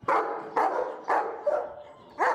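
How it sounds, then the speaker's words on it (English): A dog barking five times in a small town, sharp medium-near barks spaced about half a second apart, standing alone with no talk. "The dog barking."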